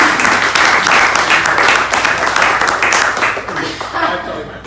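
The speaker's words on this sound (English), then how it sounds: "can we give that an applause" Audience applause and clapping at a wellness talk event, steady and loud across the whole stretch, with a few chuckles and voices mixed in before it gradually thins toward the end.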